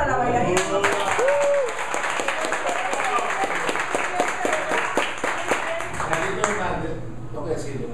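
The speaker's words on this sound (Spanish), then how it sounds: "El aplauso para las bailarinas." An audience at a live timba band show applauds the dancers with dense, sustained clapping that fills the whole stretch, with a few shouts and a voice over it.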